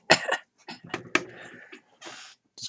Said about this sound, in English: Bear in mind, if there's any coughing